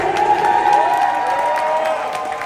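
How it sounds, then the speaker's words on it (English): Audience at a live Boston sports podcast event cheers and applauds for Celtics coach Joe Mazzulla, a loud burst of clapping mixed with whoops and crowd shouting. "Give Joe a round of applause."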